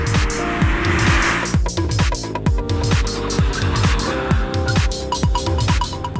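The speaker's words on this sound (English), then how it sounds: "what about the skids, the old skidderoos?" A Toyota GT86 with traction control switched off skids through corners, its tyres squealing in repeated bursts over a steady, loud engine drone, with rhythmic pulses as the car slides and regains grip.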